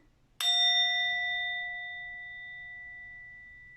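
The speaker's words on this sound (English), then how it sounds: "I'm going to ring the bell and clear the space for you" A single clear strike of a small bell, ringing out with a bright metallic tone that slowly fades over several seconds in a quiet room.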